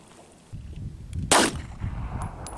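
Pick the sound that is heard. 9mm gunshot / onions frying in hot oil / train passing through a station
9mm gunshot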